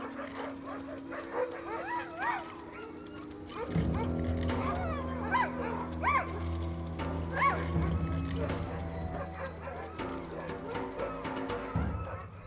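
Sled dogs bark, yip and whimper as a polar bear approaches the pack, a busy mix of close yelps and whines with a narrator talking over them.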